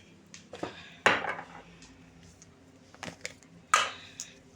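The lid of a nigella seed spice jar is opened in a kitchen, giving a few sharp, close plastic-and-glass clicks and clacks separated by quiet gaps.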